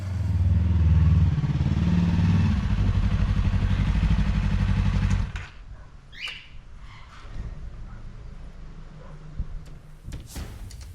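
A Yamaha R3 motorcycle engine runs loud and steady for about five seconds, then drops to a quieter idle or fades into the distance, with light clatter and a brief chirp afterward.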